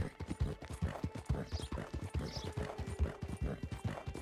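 Horse hooves galloping quickly in Red Dead Redemption 2, a rapid rolling clip-clop rhythm that stays close and steady, with faint whinnies and background game sounds.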